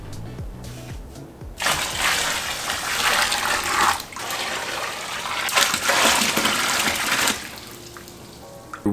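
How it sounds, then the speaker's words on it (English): Warm tap water runs from a faucet at a sink into a bin, a loud steady gushing stream that starts abruptly, briefly dips, then continues filling before easing off, with no talking. "I brought the bin over to the sink and filled it up for about 3 minutes with some warm water from the tap."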